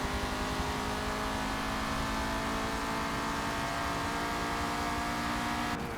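Race car engines in Forza Motorsport 7 sport compact racing drone steadily and loudly throughout, a sustained mid-pitched engine tone with layered harmonics and constant road noise and no pauses.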